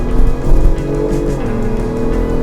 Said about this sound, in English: it definitely has pick up and go when the turbos kick in